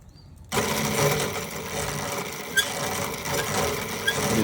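An 1800W Vevor electric motor on an e-bike build switches on abruptly and runs steadily in reverse, a dense whirring hum held close and loud with a couple of brief clicks or ticks along the way.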